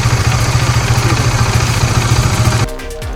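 A Bajaj Dominar 400 motorcycle engine runs in first gear with a loud, rough, pulsing low rumble and a clattery edge, then suddenly drops to a quieter idle near the end.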